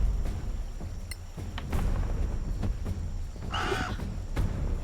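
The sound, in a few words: crow cawing in the video game Solasta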